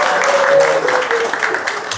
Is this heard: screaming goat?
no